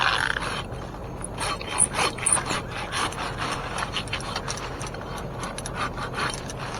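Handsaw cutting through dying oak limbs up in a tree, faint rough rasping strokes in a loose irregular rhythm, some stronger pulls standing out, with no voices.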